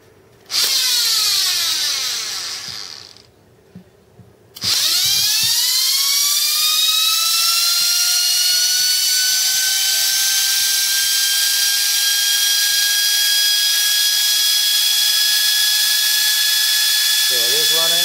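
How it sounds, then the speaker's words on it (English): Old 9-inch GE electric motor starting up, spinning up to speed, cutting out briefly, then restarting and settling into a steady loud high-pitched whine with a faint hum beneath. "It's gonna flip around real quick here when I start it up."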